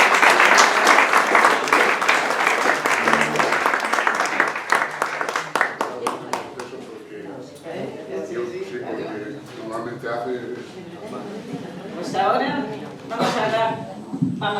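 Audience applause at a poetry evening honoring the author of the book El llanto de las amapolas: dense clapping for about six seconds, then thinning into scattered claps under talk as people speak.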